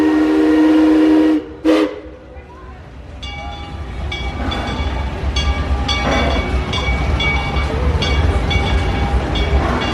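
A loud train whistle blast cuts off, then a passing train's steady rumble with rhythmic clanking of wheels and cars continues.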